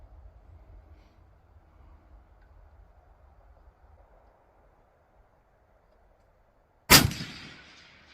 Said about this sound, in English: Let's do the third shot.